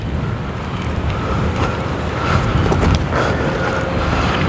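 Strong gusty wind buffets the microphone on an open disc golf course, a continuous loud roar that swells and dips without any talk.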